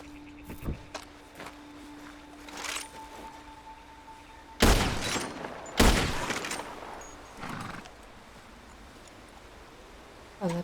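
Shotgun blasts in Red Dead Online, two heavy booming shots a second apart at the center, with scattered fainter clicks, thuds and rustling before and after.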